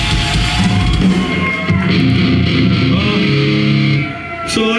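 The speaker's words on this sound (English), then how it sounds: "Give yourselves a round of applause for being so fucking beautiful." A concert crowd at a show in Minneapolis in 2003 cheers and yells loudly over sustained amplified guitar tones, the roar holding steady before dipping briefly near the end and swelling again.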